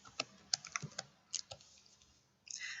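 Keys tapped on a computer keyboard while entering a word into a spreadsheet cell: a quick run of distinct clicks, then a pause and a denser burst of keystrokes at the end, close and clear with no talk.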